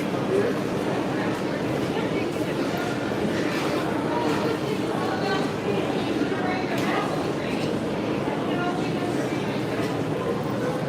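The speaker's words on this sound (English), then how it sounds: "It's a monorail, not a train." A Magic Kingdom monorail rolls past as a steady broadband rumble that holds for the whole stretch, loud and continuous, with people talking over it in a busy theme-park setting.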